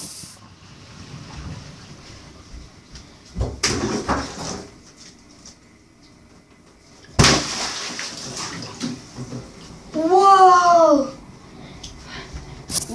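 A big water balloon is lifted and slammed down until it bursts and water gushes out, with sharp loud impacts, splashing and sloshing, and a brief high squeal near the end.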